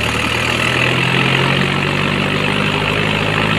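A Mahindra 575 DI XP tractor engine passes close by, a steady, loud diesel drone holding evenly from start to finish with no talk.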